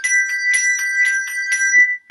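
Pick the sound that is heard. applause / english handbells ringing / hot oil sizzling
english handbells ringing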